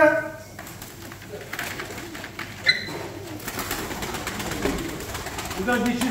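Pigeons coo softly nearby amid rustling and bird chatter at a bird auction, with a sharp knock partway through.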